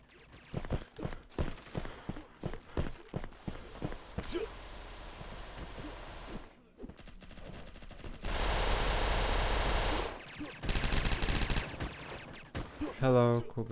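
Gunfire in the online shooter Red Crucible 2: a run of sharp repeated shots and bursts, then sustained loud automatic fire near the end, with a voice speaking in parts.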